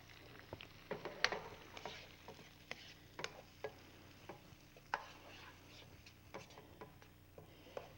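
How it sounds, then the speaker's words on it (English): A soft, steady sizzle of onion frying in a pan, dotted with small clicks and taps of stirring, quiet and close. "Hear that sizzle? I really like to hear that sizzle."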